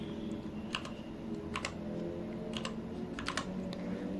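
A filename being typed on a computer keyboard: several separate bursts of quick, close keystroke clicks over a steady background hum, with short pauses between bursts.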